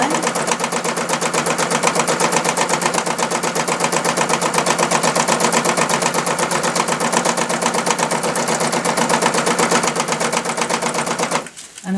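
A sewing machine stitches steadily at high speed during beginner free-motion embroidery of flower petals, a fast, even mechanical rattle running nearly nonstop before stopping abruptly at the end.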